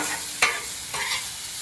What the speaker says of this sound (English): I'm going to put a little bit of oil on them here so they continue to sizzle and cook